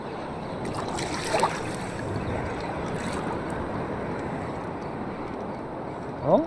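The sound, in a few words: big sea waves around fishing boat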